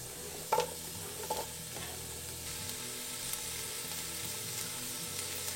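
Vegetables frying in olive oil for a white bean soup, a soft steady sizzle with a few brief louder stirring knocks near the start, then a constant low crackle throughout.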